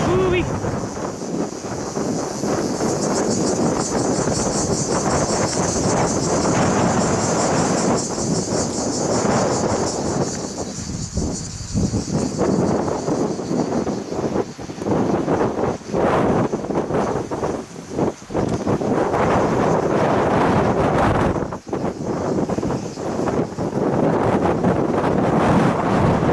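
Strong wind buffets across an open archaeological site, a constant loud gusting roar that rises and falls, with occasional faint voices underneath.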